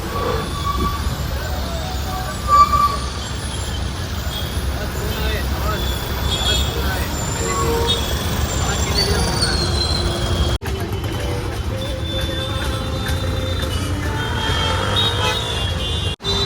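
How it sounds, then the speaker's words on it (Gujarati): City road traffic in Ahmedabad rumbles steadily, with engines, passing vehicles and a horn toot over a constant low roar, heard close from the roadside throughout. "અમદાવાદની ટ્રાફિક જોઈ લ્યો"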